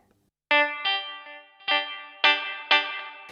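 A clean electric guitar in GarageBand for iOS plays five plucked notes and chords, each ringing out and fading into a wash of reverb and echo.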